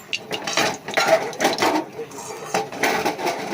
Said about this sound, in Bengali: একটু ঘুরিয়ে নিই কড়াইটা